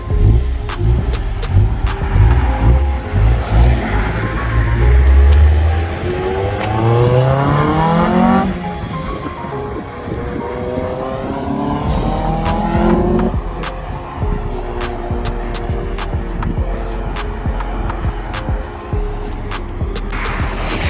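A car with a B-series engine, upgraded from a D-series, drives and revs hard, close and loud, its engine note sweeping up and down through repeated gear changes.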